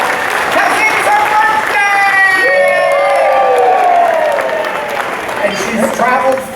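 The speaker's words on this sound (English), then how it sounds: "Give her a big round of applause." An audience at a bird show in Florida's Animal Kingdom claps and cheers loudly throughout, with a voice speaking over the crowd and higher shouts rising above the applause.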